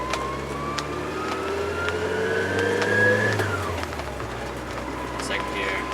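A manual-transmission car engine revs up to around 3000 RPM in first gear, then drops as the driver shifts into second, the pitch climbing, falling away, and resuming lower; a voice talks over the engine throughout.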